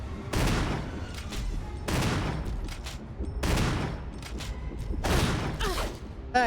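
Loud gunshots ring out in the video game Resident Evil 1 Remake, four sharp blasts spaced evenly about a second and a half apart, each trailing off into a short echoing tail.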